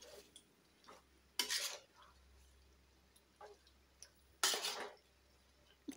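Spoon stirring chicken curry in a pot after salt and cumin powder go in, with scraping and clinking strokes in short bursts separated by quieter stretches, close and moderately loud.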